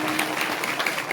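Applause from the audience at a devotional discourse, dense and continuous clapping held close and steady for a brief moment.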